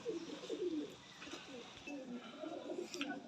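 A pair of Lakha pigeons coos in soft repeated rolling phrases, close by and fairly quiet, with a few faint chirps in the background.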